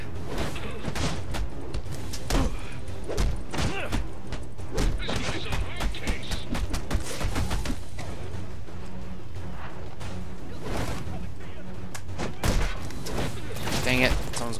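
Gunfire in Batman: Arkham Origins, dense bursts of shots and thuds layered over game music and effects, loud and continuous, with someone talking over it.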